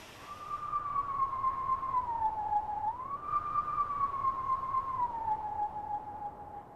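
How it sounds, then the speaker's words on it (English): A howling wind in The Legend of Zelda: Twilight Princess rises as a steady, whistling tone that slowly dips and lifts in pitch, sustained and alone over a soft noisy hiss. "if we listen closely, we hear kind of like the howling of the wind"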